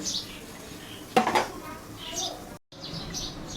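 A lid set down on a cooking pot of cabbage fried with shrimp gives one brief, close metallic clatter over a low kitchen background.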